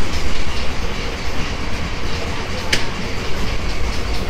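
Haldibari–Kolkata Intercity Express running with a steady, loud rumble and faint rhythmic wheel clatter throughout, one brief sharp squeak partway through, no talking.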